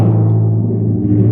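A single struck percussion note on a junior high audition excerpt rings and sustains with a steady low tone, heard alone and up close.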